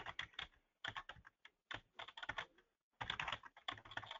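Fingers type in quick bursts on a computer keyboard to log in, the rapid close key clicks separated by brief pauses, faint and with no voices.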